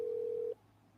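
A phone call on speakerphone, a single steady ring tone lasting about half a second, then cutting off to quiet line hiss, with no talk.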